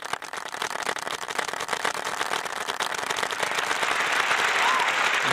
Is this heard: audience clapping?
yes